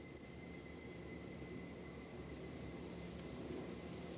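Quiet train yard ambience in the visual novel game An IOU, a low distant rumble of railcars with faint steady tonal hums and an occasional soft metallic squeal.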